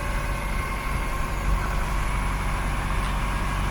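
A Mazda Miata engine idling steadily after a PCV valve replacement, with a low, even rumble, no revving or surging, close by.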